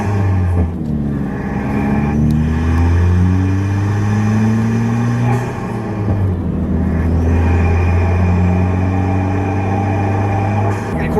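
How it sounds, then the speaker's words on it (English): Ford Fiesta ST engine fitted with a 2J Racing intake, droning loudly and steadily with rising and falling rev sweeps as the car drives along, intake noise prominent throughout. "you can hear my 2J racing intake up there. It's still good and loud."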